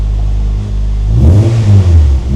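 A modified car's engine idles with a deep exhaust rumble, then swells into a brief, loud rev close by, heard alone without talk.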